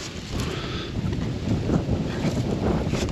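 Steady buffeting wind roars across the microphone with low rumbling gusts, blowing grains of sand and cement dust at a concrete bitumen-coating job, continuous and fairly loud throughout, no voices.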